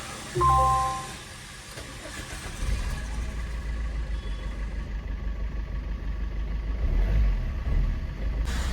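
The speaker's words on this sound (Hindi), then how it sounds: "अब स्टार्ट मार के देखते हैं गाड़ी को।" A car inside a hot parked vehicle is started with a brief chime, then the engine catches and settles into a steady, close, low idle rumble with slight rises in revs.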